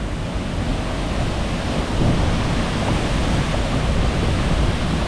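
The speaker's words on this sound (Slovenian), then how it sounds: "Zdaj gremo pa še pod slap" A waterfall somewhere in Slovenia, heard as a steady, loud, close wash of rushing water that holds the same level for the whole stretch with no voices.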